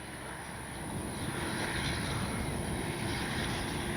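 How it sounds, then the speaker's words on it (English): An RC Focke-Wulf Ta-152H warbird model plane flies past with landing flaps set, its motor giving a steady, moderately distant droning whine under a broad rushing wash that holds level for the whole stretch, with no voices. "Good flying warbird. Good flying plane."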